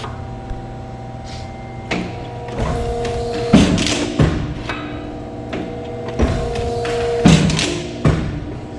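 A Krras RAS 326 metal shear cuts steel plate. The blade comes down again and again with a series of heavy clunks and thumps over a steady machine hum, spaced a second or two apart, with no voices.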